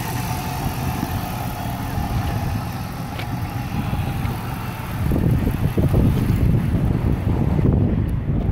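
2007 Dodge Magnum with a 5.7 liter Hemi V8 idling, a steady low engine rumble with some wind buffeting that grows louder and rougher in the second half.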